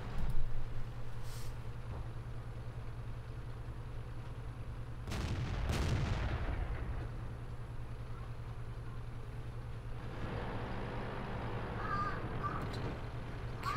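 A Comet tank's main gun fires one loud, heavy shot in World of Tanks midway through, cutting across the constant low engine hum, and faint crackling battle noise follows.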